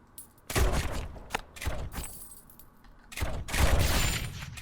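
Mortar tower firing in the tower-defence game Rogue Tower: a run of loud, sharp percussive blasts with crackling tails, several close together near the start and a denser cluster toward the end, with no talk.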